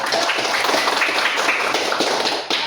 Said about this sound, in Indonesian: Oke, tepuk tangan untuk beliau